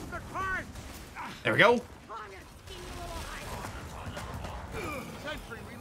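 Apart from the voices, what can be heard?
gunfire from shooting in Gears of War 4 video game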